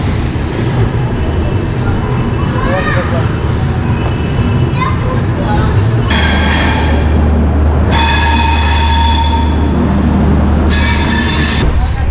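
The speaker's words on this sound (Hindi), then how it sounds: "तो फाइनली अपनी ट्रेन प्लेटफॉर्म नंबर 4 से रवाना हो चुकी है चैन पुलिंग के बाद।" The West Bengal Sampark Kranti Express pulls away from a station platform, with steady rolling rumble and bursts of high metallic wheel squeal, while children and other people chatter nearby.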